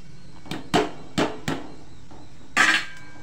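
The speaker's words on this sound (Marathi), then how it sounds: "तोपर्यंत आपण वेलची पावडर चेचून घेऊया, बारीक करून घ्यायचे." Cardamom is pounded into powder with several dull, thudding strikes at an uneven pace, close up and fairly loud, with short gaps between blows and no talking.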